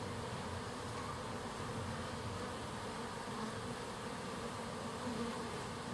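Honey bees hum around an opened hive box during a September inspection, a dense, constant close-up buzz with no break, filling the whole stretch without voices.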